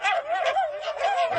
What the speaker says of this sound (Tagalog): tumawag na yung aso sa mga kaibigan niya